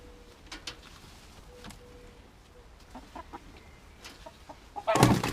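Chickens cluck softly and intermittently in the background over a noisy farm ambience, ending with a louder burst of noise.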